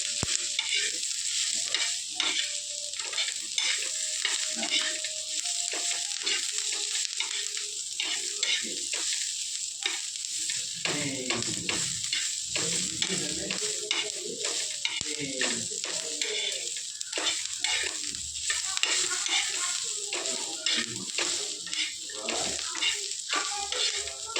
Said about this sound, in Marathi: थोडंसं तेल म्हणजे पटकन भाजतं गाडी खायला पण चांगली लागते चला बघा कांदा भाजत